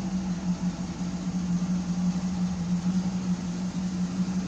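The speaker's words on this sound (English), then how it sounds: "I think my idle's a little low yet, but I kind of like it." A 1972 Firebird engine idles low and steady after a muffler repair, a continuous low rumble with a firm, even hum, fairly quiet and with no talking.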